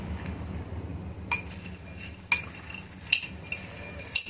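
Crispy fried sweetcorn and chopped onion are tossed in a bowl with a spoon, making light, irregular clinks and scrapes against the dish, close and fairly quiet.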